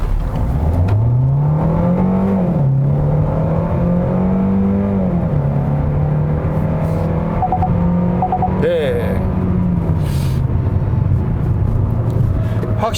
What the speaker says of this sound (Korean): 자, 급가속을 한번 해보도록 하겠습니다.